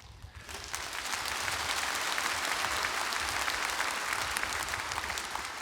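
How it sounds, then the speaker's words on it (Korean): A church congregation at an autumn early-morning revival service claps together in a dense, steady burst of applause that fills the room and keeps going without a pause. "우리는 일단 박수부터 치고 봐야 되는 거예요"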